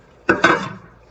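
Metal pie pans clatter twice in quick succession, a sharp close clank followed by a second ringing knock that fades over about half a second in a quiet kitchen.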